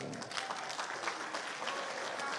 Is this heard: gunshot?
no